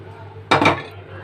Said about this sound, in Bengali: এবার ডালটাকে সাঁতলে নেব, দিয়ে দিলাম ডালটা।